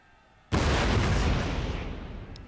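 A single cannon blast in a Mahdist Rebellion battle game, a sudden loud boom that rumbles and slowly fades over two seconds.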